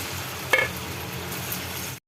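Homemade rice flour Kurkure snacks fry in hot oil in a kadai, giving a steady, close broadband sizzle throughout with a brief louder crackle near the start, and no voices.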